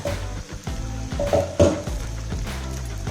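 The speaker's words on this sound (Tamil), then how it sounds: "கொஞ்சம் வதங்கட்டும்" Cauliflower sautéing in a pan for cauliflower podimas, with a soft sizzle and scattered clinks and scrapes of a spoon against the pan, alongside a steady tonal background.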